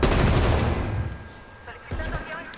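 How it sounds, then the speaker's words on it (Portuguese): Gunfire in Call of Duty Black Ops Cold War team deathmatch: a dense burst of rapid shots up front that fades into a quieter stretch, followed by a few more scattered cracks, with a voice speaking over it. "Tem alguém atirando em mim aqui?"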